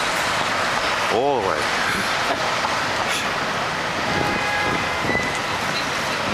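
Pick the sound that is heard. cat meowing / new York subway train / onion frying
new York subway train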